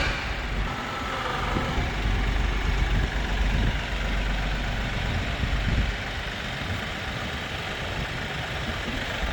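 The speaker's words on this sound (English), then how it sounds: "this is a real life test of an NS4710 Kioti at an idle lifting up a pallet of net wrap" A Kioti NS4710 tractor idles steadily while lifting a pallet of net wrap, its low diesel rumble continuous and fairly close throughout.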